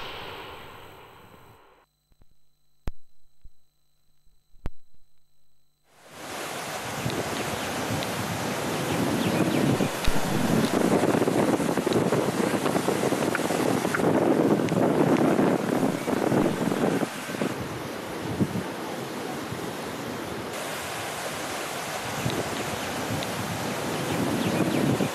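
Flowing water of the Dudhna river in Parbhani, a steady broadband rush that starts abruptly after a few seconds of near silence with faint clicks, then stays loud and continuous with wind buffeting the microphone.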